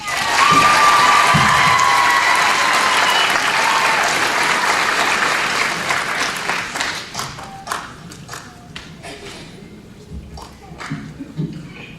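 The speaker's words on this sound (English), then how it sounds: "Let's give a big round of applause to the class valedictorian, ADRIANA ROSAS." Loud, sustained audience applause with cheers at a high school commencement ceremony holds steady for several seconds, then fades into sparse, scattered claps.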